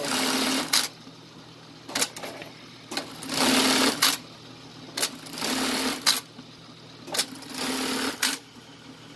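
A Rubens bartack sewing machine stitches in repeated short, rapid bursts of needle chatter, separated by sharp clicks and brief pauses, close and clear with a faint mechanical hum between runs.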